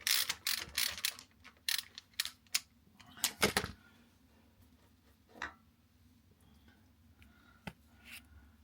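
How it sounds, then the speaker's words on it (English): Wrench ratcheting to undo the oil drain bolt on a neglected Harley Davidson Sportster motorcycle, a close run of sharp clicking strokes followed by quieter scattered metallic taps. "Let's wrench this off."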